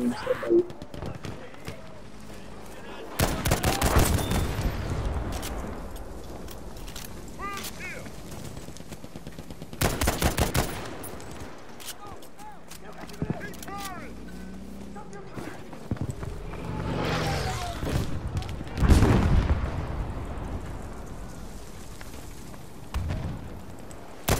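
Rifle shots from a Garand and explosions boom in the Battlefield V game on Wake Island, several loud sharp bursts spread unevenly across the stretch, with someone talking between them.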